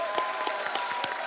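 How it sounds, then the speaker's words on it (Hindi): Studio audience applause on a Hindi TV show, steady moderate clapping with a few sharper claps standing out, continuous through the short stretch. "एक बार जोरदार तालियां।"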